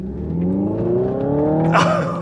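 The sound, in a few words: Hyundai IONIQ 5N fake exhaust sound during launch control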